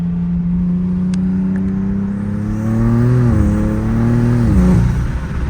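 A tuned 2024 BMW M2 engine idles with a deep, loud drone, then revs up and back down in a swelling rise and fall, heard up close with no voices.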